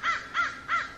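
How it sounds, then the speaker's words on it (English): A crow caws three times in an even, evenly spaced rhythm, loud and close, with no voices over it. "Hear that bird in the background."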